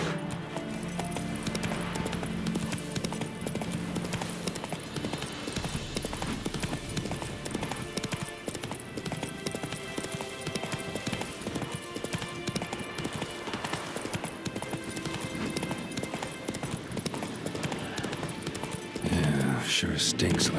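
Horse hooves gallop in a steady clip-clop rhythm throughout The Witcher 3, close and loud under game music and ambience, with a brief whinny-like burst near the end.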